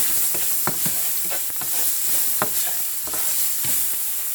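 Ginger strips sautéing in a pan, a soft steady sizzle broken by intermittent scraping strokes of a utensil stirring every half second or so, close and alone.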